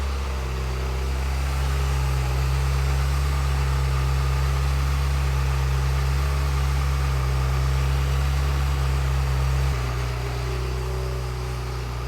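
A Ferrari F355 V8 with individual throttle bodies idles steadily at close range, a low, even hum and rumble that holds for several seconds, then settles slightly lower near the end.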